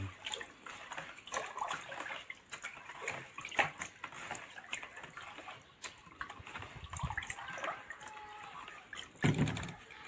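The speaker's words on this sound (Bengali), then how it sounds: "এটা আমি সুন্দর করে ঘুলে নেব জল দিয়ে" Powder, four spoonfuls, is mixed by hand into water for lemon tree care, giving soft, intermittent sloshing and trickling splashes close by, with a louder splash near the end.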